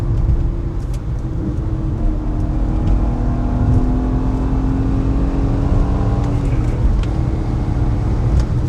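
Modern BMW 2 Series accelerating hard, a loud, continuous engine roar with the pitch climbing steadily and shifting near the end, heard from inside the car.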